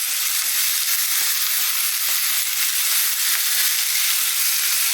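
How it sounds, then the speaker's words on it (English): Sausage frying in oil for a sausage and peas tomato dish, kept turning in the pan: a loud, continuous bright sizzle and crackle, close up, with faint stirring ticks underneath and no voices. "So I just keep that turning in the oil. I want to stir and fry"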